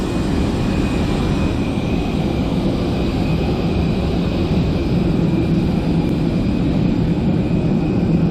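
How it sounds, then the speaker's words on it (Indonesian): A Batik Air passenger jet's engines give a steady, loud, unbroken roar throughout, with no talking. "Oke, saya akan naik pesawat ini ya,"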